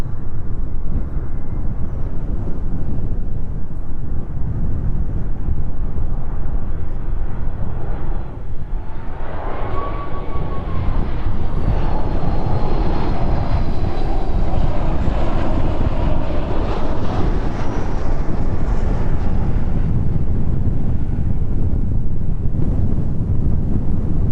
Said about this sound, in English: There it is, safely touching down into East Midlands this evening.